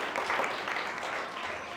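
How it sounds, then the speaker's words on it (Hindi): Brief burst of clapping from children and adults at a kids' church convention, applauding a child for a correct answer, moderate volume and slightly distant. "जोरदार तालियां बच्चे के लिए।"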